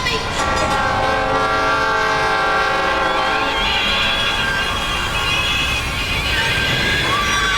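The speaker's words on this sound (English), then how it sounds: "There's a train coming." A train approaches with a loud, sustained horn blast over heavy rumbling rail noise, close and continuous throughout.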